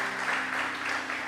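A church congregation applauds in steady, continuous clapping that fills the whole short stretch at even loudness.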